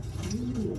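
A Grenadino pigeon coos once, a short low murmuring call close to the microphone against soft background hum.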